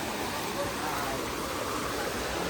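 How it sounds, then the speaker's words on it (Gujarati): A small mountain stream on Girnar, running low, gives a soft, steady rush of water during rain, with faint voices mixed in. "જો મિત્રો ઝરણું છે ને આમાં છે ને અત્યારે તો પાણી થોડુંક ઓછું છે"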